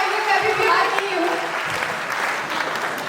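An award ceremony audience in a Patna auditorium claps in a loud, continuous wash of applause, with a voice speaking over the clapping.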